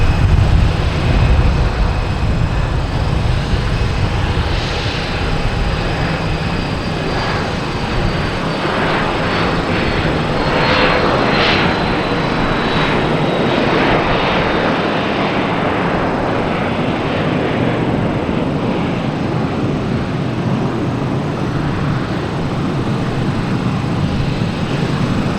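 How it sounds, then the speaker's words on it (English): An Embraer Phenom 300 business jet climbs out from runway 22 right at Boston Logan Airport, a steady broadband engine roar holding loud throughout, with a faint whine rising through the middle. "Now have a Embraer Phenom 300 taking off on 22 left, 22 right, I mean."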